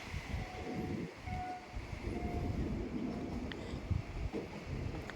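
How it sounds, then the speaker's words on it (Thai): A train rumbles steadily along the rails with clacking wheels and a few faint horn-like tones, heard from on board as it slows while pulling into Sisaket station, Thailand. "รถไฟกำลังเข้าสู่สถานีนะครับ"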